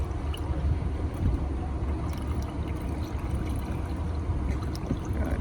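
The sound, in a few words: coolant poured into a 2002 Dodge RAM 1500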